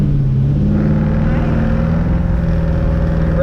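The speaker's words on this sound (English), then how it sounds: "Riding in the Chevy." A Chevy car cruising, its engine giving a steady low drone with a faint rising tone, heard from inside the cabin at even loudness throughout.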